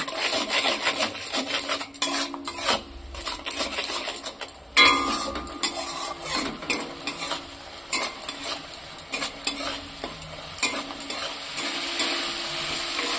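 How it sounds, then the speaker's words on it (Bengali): Spice masala being stirred and sautéed in a pan for a Bengali egg and soyabean curry with potatoes, giving a continuous scraping and rasping of a spatula with a soft sizzle underneath, steady and close, with no talking. "এবার মশলাটাকে কষিয়ে নেব"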